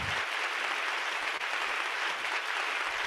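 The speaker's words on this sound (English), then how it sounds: "The crowd is roaring. They're going crazy." A crowd claps and cheers in a dense, steady wash of applause, broad and continuous with no single voice standing out.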